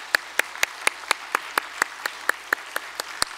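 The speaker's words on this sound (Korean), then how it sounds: "우리 찬양대를 비롯하여 섬기고 애써주시는 모든 분들을 위해 다시 한번 격려의 박수 한번 하겠습니다" A church congregation claps in steady unison for the choir and volunteers during a Sunday worship service, about a dozen crisp, evenly spaced claps ringing out over a quiet room.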